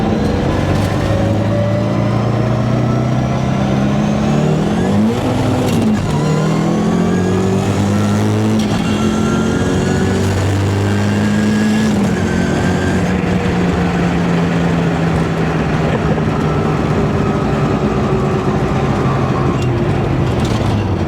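Street car fitted with a dogbox transmission, accelerating hard through the gears with clutch flat-shifts, its loud engine climbing in pitch, dropping at each quick shift and climbing again over about twenty seconds, close and continuous with no talk.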